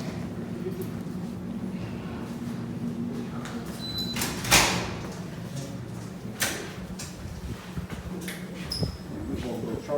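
A key works a lock and a door opens in the catacombs beneath Indianapolis, a brief metallic rattle and clunk standing out at mid-clip against steady crowd murmur and a low room hum, with a couple of fainter knocks afterward.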